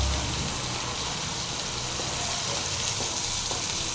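Mudakathan herbal chutney fries in a pan with a steady, dense sizzle that holds at an even level throughout, with no voices.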